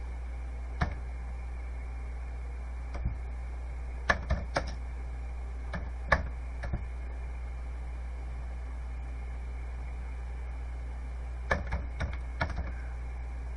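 Scattered keystrokes clack on the old, sticky keyboard of a Commodore VIC-20 computer, faint clicks in small clusters with long pauses between, over a steady low hum.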